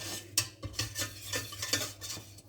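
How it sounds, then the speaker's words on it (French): A spoon stirs haché parmentier mixture in a pot off the heat, giving faint, rhythmic scraping and clinking strokes with no talk. "On va la mettre hors du feu et on mélange."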